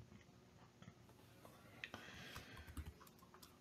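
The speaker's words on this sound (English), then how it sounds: "You'll see I'm typing." Quiet, irregular typing on a Chromebook laptop keyboard, with soft key clicks and a few sharper taps, heard close up against a faint background hiss.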